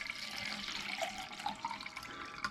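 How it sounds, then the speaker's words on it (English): Water runs steadily into a pot inside an RV kitchen, filling it to boil for a freeze-dried meal, a soft continuous close splashing and trickle with no talking. "We're going to kind of fill it up here with water."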